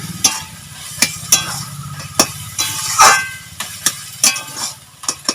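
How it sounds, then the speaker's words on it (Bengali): A metal spatula stirs and presses ash gourd and prawn curry in a pan, giving repeated sharp scrape-and-tap strokes at an uneven rhythm over a steady low sizzle, close and fairly loud. "এখন একটু নাড়বো, নেড়ে এখন একটু মিশিয়ে দেবো ভালো করে"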